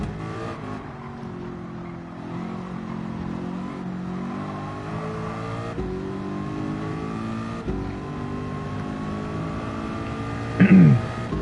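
A Ford GT LM race car engine in a video game revs and climbs repeatedly through the gears, each pull rising in pitch before the next shift, with a sharp bump near the end.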